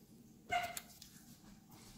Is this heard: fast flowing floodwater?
no